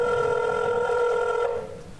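A telephone rings with a steady electronic tone for about a second and a half, then the ring cuts off and only faint room noise remains.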